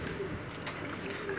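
Pigeons coo softly in a loft, low throaty calls repeating against a steady background hum, with no speech over them.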